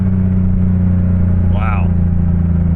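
A 1985 Porsche 911 3.2 Carrera with a Fabspeed muffler-delete exhaust holds a loud, steady low drone, with a brief rising whine near the middle; a voice speaks over it.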